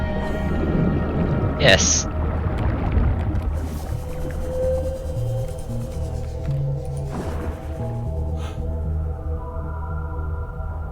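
A whale calls in the underwater video game Subnautica: Below Zero, long moaning tones that sit under people talking over the game.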